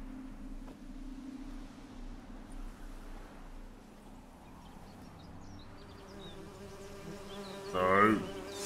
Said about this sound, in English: The birds singing, the bees buzzing.